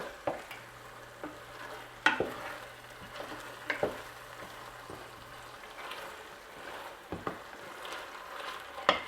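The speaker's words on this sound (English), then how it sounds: "The peppers have sauteed 3 minutes." Red and green peppers sizzle softly in a pan for a Portuguese seafood rice, a steady faint frying hiss broken by occasional scraping stirs.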